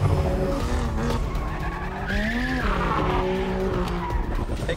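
A BMW in a car chase skids hard, its tires squealing in rising and falling howls over a loud roaring engine. The sound is continuous and close, with no speech.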